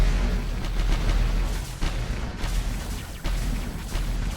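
Volley of missiles launched in the space strategy game Space Menace 2, a dense rumbling barrage with sharp bursts and booms layered over continuous low roar, loud and close.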